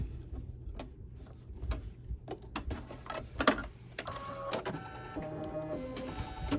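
A home embroidery machine stitches out a Lolly Doll design, giving rapid mechanical ticking and clattering with sharp needle strikes and a brief whirring motor sound, close and steady.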